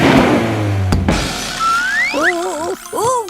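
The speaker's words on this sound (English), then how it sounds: "Let's have a nice loud rev." Cartoon truck's engine revs loudly in a garage, a rising whir and vroom followed by wobbling, boing-like cartoon effects, with a voice briefly audible underneath.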